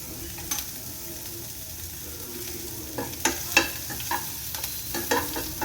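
Curry leaves fry in hot oil in a pan for horse gram saaru, a soft steady sizzle broken by a few sharper spoon scrapes and clinks near the end.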